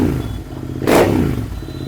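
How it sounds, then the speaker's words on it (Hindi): Motorcycle fitted with a slip-on exhaust idles with a steady low rumble, then gives one loud, crisp rev blip near the middle before settling back to idle, close to the mic with no talk. "लोग बोलते हैं कि ये कौन सी बाइक है, इतनी आवाज़ कैसे करती है, तो मैं थोड़ी सी आवाज़ आपको सुना देता हूँ"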